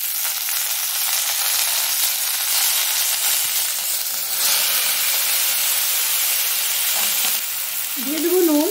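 Ingredients drop into hot oil for a vegetarian broad bean, potato and eggplant curry, giving a loud, steady, close sizzle and hiss. A brief squeaky tonal sound rises near the end, and no one speaks.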